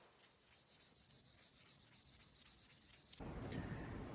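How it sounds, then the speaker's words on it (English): A knife handle is sanded by hand with fine-grit sandpaper, producing rhythmic back-and-forth rubbing strokes, close and fairly quiet, repeating rapidly and evenly before giving way to a smoother rasp at the end. "Now I'm just hand sanding the handle, starting at 320 grit"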